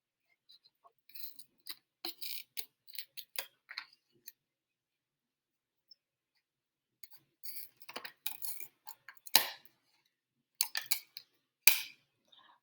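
Scissors trim around a paper cutout in short bursts of crisp snipping, clustered clicks separated by quiet pauses, close and fairly faint, with no voices.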